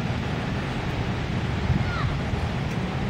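Waterfall at Falls Park in Sioux Falls, South Dakota, gives a steady broadband rush of falling water at moderate distance, with some wind buffeting on the microphone.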